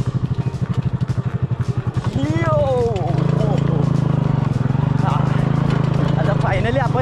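Motorcycle engine on an off-road trail near Lonavala, a steady close putter that rises into a sustained drone as the bike pulls away, with someone talking over it throughout.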